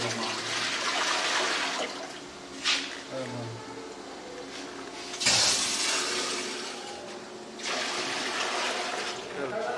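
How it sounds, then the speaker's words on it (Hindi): Six to seven litres of water pour into a large cooking pot for boiling 1.5 kilograms of rice, a steady, fairly loud rushing gush that runs nearly ten seconds with a few brief surges. "बर्तन में हम पानी डाल लेते हैं चावल बॉयल करने के लिए।"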